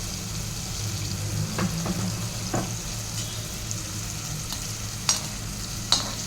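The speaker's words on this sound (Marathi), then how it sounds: "मी हा कांदा तळून घेणार आहे। मला कारण की क्रिस्पी कांदा खूप आवडतो।" Onion frying in a pan toward crispy golden brown for veg pulao makes a steady sizzle, punctuated by scraping stirs and a few sharp clicks of the utensil against the pan.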